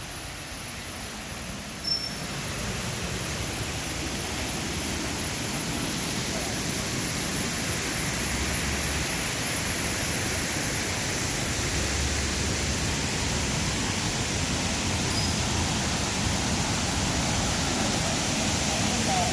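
Water rushes without a break at Vattai waterfall, a spot of big rocks beside a large quarry. The roar is loud, broad and even, and it runs the whole time after a short quieter start.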